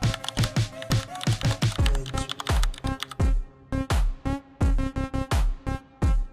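Typing a prompt on a computer keyboard: a steady run of close, crisp key clicks in quick irregular bursts, loud and alone with no talking.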